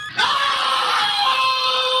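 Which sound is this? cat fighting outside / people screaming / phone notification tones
people screaming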